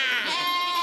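A man imitates a goat's bleat, giving one sustained, wavering nasal cry with a steady pitch and close, clear tone and no other sound behind it.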